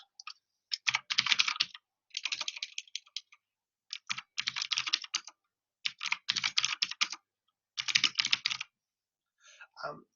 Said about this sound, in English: So I'm going to create Lee on this PC. Create a password.